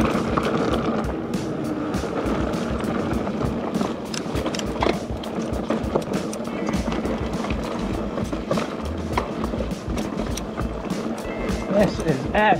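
A mountain bike descending the Airstream section of the Twrch Trail at Cwmcarn, with constant rattling tire-on-dirt rumble and frame clatter rolling on loudly throughout.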